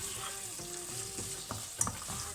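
Onions sizzling and frying in a pan, salted to draw out moisture as they begin to brown for a Rajasthani laal maas curry; a steady close crackle with occasional stirring scrapes.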